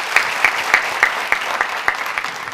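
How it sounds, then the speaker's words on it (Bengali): Audience applause at the UCB Public Parliament 2017 televised debate competition, a steady dense patter of many hands with sharper individual claps standing out, moderately close and without talk. "তাদের জন্য একটা তালি দিতে চাই আমরা সবাইকে"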